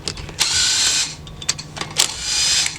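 A 1/4-inch drive power tool works on the lug nuts of a 2002 Ford Explorer during a backyard brake job, giving close, loud whirring bursts with brief ratcheting stops in between.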